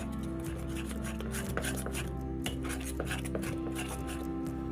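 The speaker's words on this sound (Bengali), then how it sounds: "সব উপকরণগুলোকে ভালো করে মিশিয়ে একটা ডো বানিয়ে নেব।" Rice flour and maida are worked into a dough in a pot, giving soft scraping and knocking against the metal with a few sharper clinks over a low steady hum.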